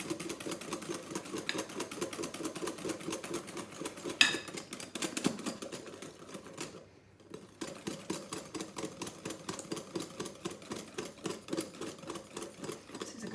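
A whisk beats macaron mixture in a bowl with a fast, steady rattling rhythm that carries on throughout, broken by one brief pause midway.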